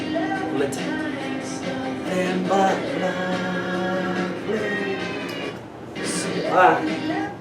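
A singing voice over music slides through cat-like meowing tones, a human imitation of a cat within a song.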